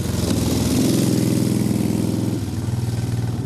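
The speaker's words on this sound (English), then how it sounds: "what a wonderful motorcycle this is" A motorcycle engine runs close by with a rich, pulsing low rumble, swelling slightly as it revs then settling back toward a steady idle, with no voices over it.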